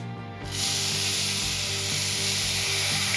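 Milk poured into a pan of melted jaggery and desiccated coconut for a modak filling sets off a loud, steady sizzling hiss that starts abruptly and continues without speech.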